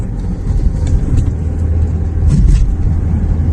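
A truck cruising through downtown Nuevo Laredo, heard from inside: steady low engine and road rumble that swells slightly midway, with faint passing-traffic noise and no talking.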